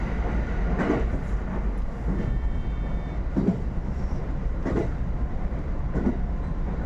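Train rolling along rails in Japan, a steady loud rumble with periodic clickety-clack wheel beats at regular intervals, close and continuous, with no talk.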